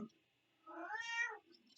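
A cat gives a single faint, drawn-out meow indoors, rising and then falling, with a soft click at the end.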